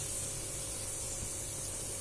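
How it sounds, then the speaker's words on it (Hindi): Cumin seeds crackling in hot oil in a pan, a faint, steady hiss with soft crackle, close and uninterrupted, with no talking. "ये देखिए बहुत अच्छी तरह से जीरा हमारा तड़क रहा है"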